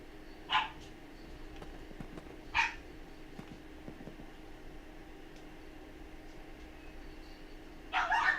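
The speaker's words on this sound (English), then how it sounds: "Oh, the puppies are all excited about something." Excited puppies give three short, sharp barks, spaced far apart, over a constant fan-like hum.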